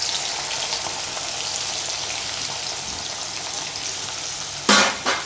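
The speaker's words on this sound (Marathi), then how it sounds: "कांदा व्यवस्थित तळू तळू द्यायचा आहे" Onion frying in hot oil for chicken biryani, a loud continuous crackling sizzle like heavy rain, close by, with a sudden burst of spattering near the end.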